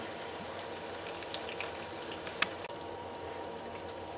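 Tilapia fillets sizzling in hot oil in a pan, a steady crackling hiss with a few sharper pops, close and moderately loud with no voices.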